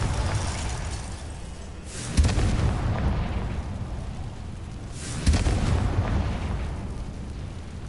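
Confringo spell explosions in Hogwarts Legacy, two heavy booming blasts a few seconds apart over a constant dense roar of game noise, loud and alone.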